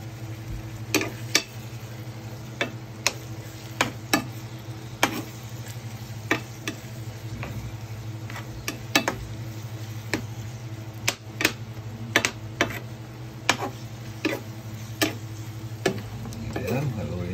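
A spoon stirring food in a pot over a low hum, giving irregular sharp taps and scrapes against the metal at a steady unhurried pace, close by with faint sizzling underneath.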